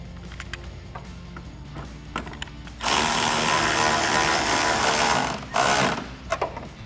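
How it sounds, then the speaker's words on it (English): A 10mm nut on the bottom of a 2021-2022 Ford F-150 grille is tightened, with quick ratcheting clicks before and after a loud, steady whirring burst of about three seconds, all close-up. "Now we can reinstall our 10mm nut on the bottom."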